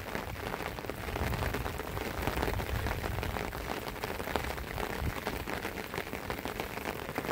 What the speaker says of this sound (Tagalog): matindi yung buhos ng ulan